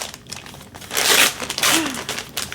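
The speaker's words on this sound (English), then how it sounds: "Let's do a little slice because it doesn't want to rip open." A plastic delivery package being sliced and torn open, with close crinkling and ripping of plastic in a few uneven bursts, loudest toward the middle.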